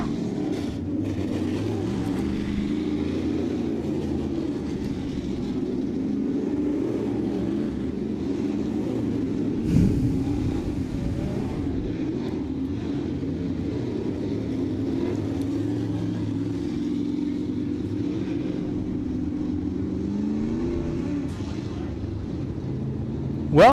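Late model race cars roll out onto a speedway track at Southern Ontario Motor Speedway, a steady layered engine drone from several cars at moderate distance, with one brief sharp thump partway through.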